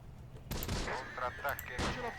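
Machine gun fire in the video game Close Combat: The Bloody First, in an Italian Crusaders battle, bursts sharply in at mid-clip and again near the end, loud and crackling with a game voice over it.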